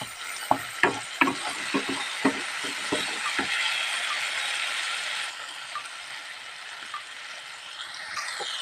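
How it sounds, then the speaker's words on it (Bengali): Ginger garlic paste and spices are stirred in a pan over a medium gas flame for aloo dum, a series of sharp spoon scrapes and clinks at first, then a steady sizzling frying hiss alone. "আদা রসুনের পেস্টটা দেব দিয়ে নাড়িয়ে নেব মশলাটা ভালো করে কষাতে হবে"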